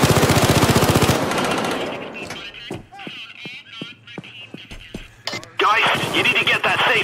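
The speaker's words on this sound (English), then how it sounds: "I love sentry guns." Sentry guns firing in the video game Payday 2, a loud rapid automatic burst at the start, then sparse sharp shots and clatter, and heavy firing resuming near the end, with voices talking during the shooting.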